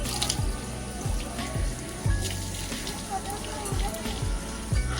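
A drinking-water tap at an ashram drips at a steady, regular rhythm of close, distinct drops, heard alone without talk.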